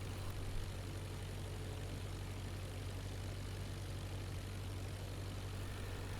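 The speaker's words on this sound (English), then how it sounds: "We raise the nose to fly level and add the power to 1000 RPM." A propeller aircraft engine idling at low power around 1000 RPM in the IL-2 Flying Circus flight game, a steady, continuous drone with a strong low hum, constant in level and unbroken throughout, with no voices.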